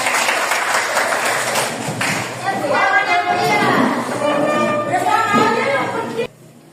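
Students in a classroom clap their hands as an ice-breaker, a dense ragged applause with overlapping chatter and voices from the group that stops abruptly.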